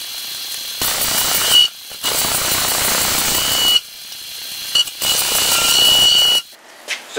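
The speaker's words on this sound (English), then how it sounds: "I just have a parting tool that has the right angles on it" A lathe parting tool cuts wood to form a tenon for a Nova chuck while a peppermill is turned. Three long, loud scraping passes are broken by short pauses, with brief mechanical clicks near the end.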